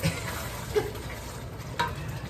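Sardines fry in a pan with a steady, soft sizzle and a few faint utensil clinks, close by and continuous with no speech.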